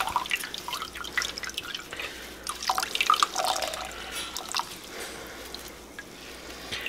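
Buttermilk dripping and trickling from a cloth bundle of homemade butter as it is squeezed by hand, a quiet stream of irregular wet drips and splatters close by.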